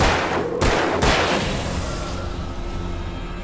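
Gunfire at an enemy in Alan Wake, a couple of sharp close shots followed by a rumbling, reverberant burst that trails off, with no talking.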